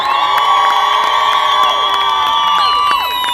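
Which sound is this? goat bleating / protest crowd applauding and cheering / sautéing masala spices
protest crowd applauding and cheering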